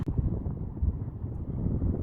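Outdoor wind buffets a microphone during metal detecting in the UK, a steady, loud low rumble that fills the whole short stretch with no talk over it.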